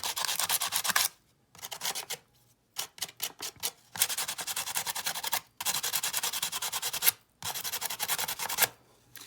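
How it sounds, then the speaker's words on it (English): A fine sander is worked by hand over the rough edges of a handmade doll, giving close, scratchy rubbing strokes in short bursts with brief pauses between them. "you're just going to use your sander, just a fine sander"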